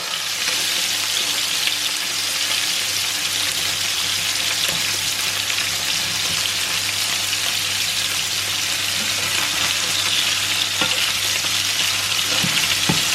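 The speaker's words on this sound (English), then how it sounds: "So we're going to turn the scallops within a couple of minutes. It's seared on the one side." Scallops seasoned with salt and pepper sear in a hot pan, giving a loud, continuous sizzle and crackle that stays even throughout, close up and with no voices.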